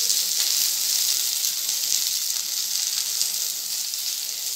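Vegetables sizzle and fry in hot oil with panch phoron for a Bengali chorchori, giving a steady, close, dense hiss that holds evenly throughout, with no talk over it.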